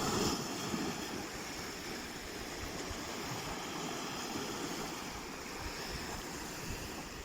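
Sea water washing against the rocks below the cliffs at Balcary on a rising tide, a soft, continuous distant surf with light wind noise and no voices.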